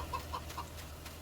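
Chickens in the Farming Simulator 19 game give a few soft, short clucks close by over a steady low farmyard hum, with no talking.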